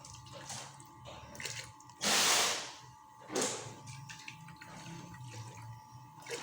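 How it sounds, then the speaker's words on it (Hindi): Water is poured into a jug to rinse it in a kitchen while masoor dal is prepared, giving a loud splashing gush followed by a second shorter pour amid quieter handling sounds, with no talking. "पानी डाल के इसे अच्छी तरह जग को साफ़ कर लें"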